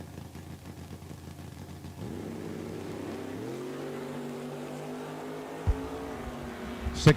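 Drag race cars, including a 1966 Chevelle, launch at a raceway bracket event, a distant engine note rising into a sustained roar as the cars pull away, with sharp bangs near the end.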